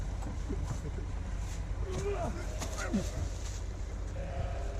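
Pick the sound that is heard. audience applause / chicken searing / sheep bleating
sheep bleating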